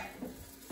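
A moong dal omelette (moonglet) cooks in a pan over a medium flame, giving a brief, steady low sizzle with soft crackling and no voices.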